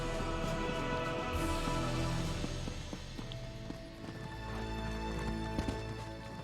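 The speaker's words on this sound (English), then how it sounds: "Oh, I get a horse." A horse gallops in The Elder Scrolls Online game, with rapid rhythmic hoofbeats over a layer of game ambience and music that runs throughout.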